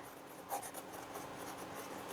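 A fine-nib fountain pen inked with Online Air Soft Turquoise scratching across paper, a faint, close, continuous rasp with one slightly louder stroke near the start.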